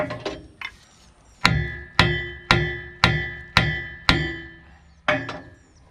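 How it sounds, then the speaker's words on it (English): A hammer striking metal while a wrench is tightened on a Bobcat or Skyjack: two light taps, then a run of seven evenly spaced, ringing metallic blows, loud and close, each with a short clanging decay. "I'm gonna take my hammer."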